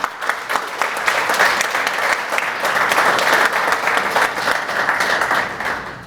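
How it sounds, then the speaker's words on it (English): Sustained audience applause at a Maryland State Police aviation ceremony marking 55 years of service, a dense crowd of clapping hands, loud and steady for several seconds before easing off. "I just hope y'all give her a round of applause too"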